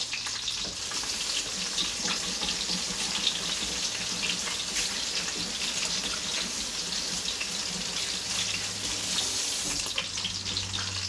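Water running steadily from a kitchen tap for a drink while sausages fry in a hot pan, a continuous, fairly loud hiss mixed with sizzling and no talk.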